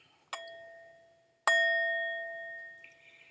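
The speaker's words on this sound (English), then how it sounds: "May the sound of this bell penetrate deep into the cosmos." A bell struck twice during a prayer service, each a clear ringing tone that hangs and slowly fades, the second strike louder and longer in a quiet room.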